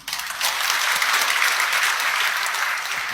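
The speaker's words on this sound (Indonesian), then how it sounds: "Beri tepuk tangan." A church congregation claps together, a loud dense burst of applause that swells quickly and stays strong for several seconds with no voice over it.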